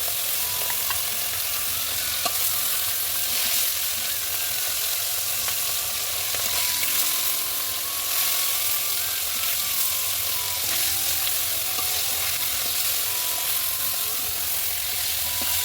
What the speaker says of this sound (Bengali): এখন দিয়ে দিচ্ছি মাছগুলো, দিয়ে ভালো করে মাছগুলো ভেজে নেব